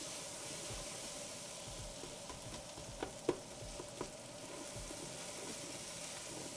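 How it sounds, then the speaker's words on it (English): Tomato paste sautéing in a pot on low heat for cioppino seafood stew, giving a faint continuous sizzle with a few soft clicks of a spoon against the pot. "we want to saute the tomato paste a little bit before we add in the canned tomatoes"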